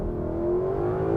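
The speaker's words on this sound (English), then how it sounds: "I'm just gonna roll and floor it." A 2026 Lexus LC500 pulls hard at full throttle from a roll, its engine note a steady, rising drone heard from inside the cabin with no gaps.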